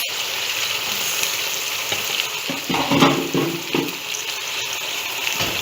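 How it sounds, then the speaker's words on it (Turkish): Washed bulgur goes into a hot pan for a Turkish pickled cabbage and beet dish, giving a loud, steady sizzle with scraping stirs swelling briefly in the middle, close by and without talk. "Daha sonra bulgurlarımızı, yıkadığımız bulgurlarımızı da ekliyoruz."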